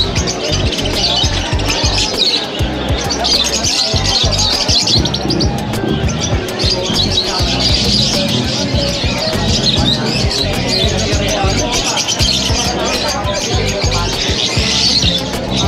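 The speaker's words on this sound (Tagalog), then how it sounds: "Ito kay Boss Marvin, napakagagandang ibon." Many small caged birds chirping and tweeting continuously at a busy pet market in Malabon, Metro Manila, a dense, steady chorus of high calls with crowd murmur beneath.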